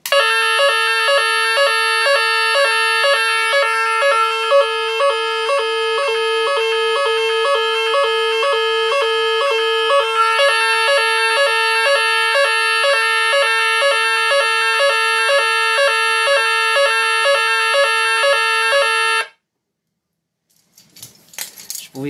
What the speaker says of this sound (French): Donc c'est parti pour l'alarme générale.